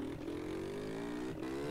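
A turbocharged car engine in the GTA video game revs in a steady, rising harmonic drone with two brief dips, moderately loud and alone.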